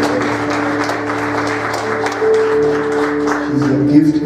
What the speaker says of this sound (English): We can clap hands for her.